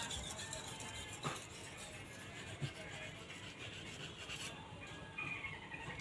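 A golok machete blade is rubbed back and forth on a sharpening stone, giving a faint continuous rasping scrape with a few sharper knocks, quiet and close, without talking.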